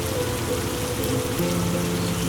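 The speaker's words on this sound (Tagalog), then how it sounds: "Nararamdaman na namin na unti-unti nang umuulan." Steady rain pours down along a rural mountain trail, a dense, constant hiss of drops on surfaces close by, with no voices.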